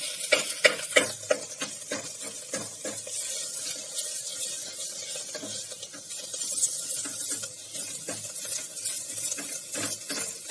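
Spinach and lotus stem fry over high heat in a pan for a Kashmiri curry, sizzling steadily while a utensil stirs and scrapes in irregular bursts, close and fairly quiet with no talk.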